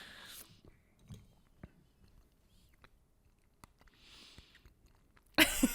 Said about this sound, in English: With the little like rodent chewing.